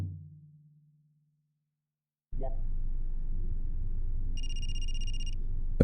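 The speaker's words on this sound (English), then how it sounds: "Phone call?" A telephone rings in the video game Re:Curse, a steady electronic ring with a bright tonal pattern rising over a low continuous background hum, following a short low tone and a quiet pause.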